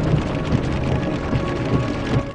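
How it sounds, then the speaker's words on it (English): Hailstorm pounding a stopped car during a tornado outbreak, heard as a dense, loud, continuous drumming roar of impacts with low rumbling underneath. "news cameraman Wally Hubbard was caught in a hailstorm and forced to stop his car"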